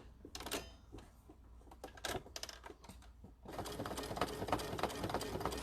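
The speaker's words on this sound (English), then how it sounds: "I'm going to make sure I back stitch." A sewing machine back stitching a lip balm key ring, running in short stop-start bursts, then settling into a longer continuous stretch of rapid needle clatter, close by.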